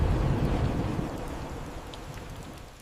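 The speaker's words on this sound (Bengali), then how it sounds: "ঠিক তখনই শুরু হলো প্রবল বৃষ্টি আর ঠান্ডা হাওয়া।" Heavy rain falls with cold wind gusting through a forest, a dense wash of rain and blustery noise that is loudest at first and slowly eases off over a few seconds, with no voices.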